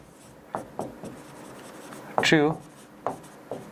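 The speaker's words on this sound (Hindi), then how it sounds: "यहीं लिख देता हूँ" A pen or marker writes across a board or page while a maths teacher works through an induction proof, giving short scratchy strokes spaced through the moment, with one longer stroke in the middle. A voice speaks faintly between the strokes.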